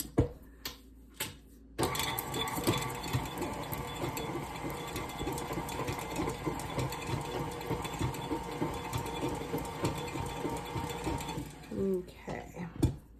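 Electric mixer beating a package of cream cheese in a bowl until creamy, a steady whirring drone with ticking rattle that starts after a couple of seconds of sparse knocks and runs continuously before cutting off near the end.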